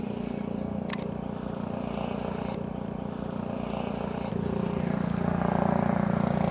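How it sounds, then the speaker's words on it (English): A mounted rescue helicopter passes overhead on a rainy day, a steady low rotor and engine drone that thickens and grows louder toward the end, with a few faint clicks on top. "that's just the mounted rescue helicopter"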